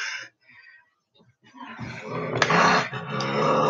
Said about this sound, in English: These dogs are not gonna stop.